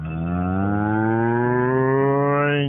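A cow moos in one long, loud, sustained call with a rich harmonic tone that slowly rises in pitch toward the end, heard alone with no other sounds.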